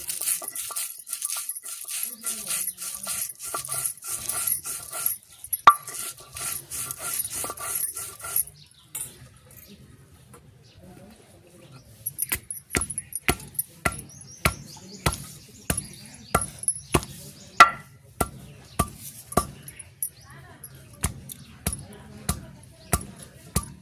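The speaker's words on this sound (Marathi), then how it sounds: "आता धने वाटून घेते ना." Coriander seeds are hand-ground on a stone in a rural home kitchen, producing a rapid string of sharp, close knocks and scraping strokes that turn into a steady pounding rhythm, with a dog barking and quiet background noise.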